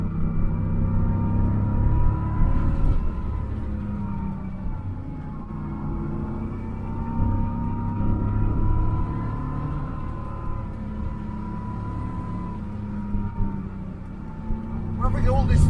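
1982 Porsche 911SC driving on a road, heard from inside as a steady engine drone with road and wind noise, with a person talking over it.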